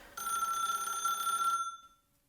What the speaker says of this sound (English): Phone suddenly rings in the booth, gripping everyone by the heart